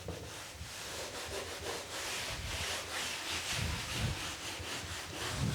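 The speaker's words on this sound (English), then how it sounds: "just rub it in" Finish is rubbed by hand into a wooden floor, a soft continuous scrubbing with a back-and-forth rhythm, close and moderately loud, with no voices.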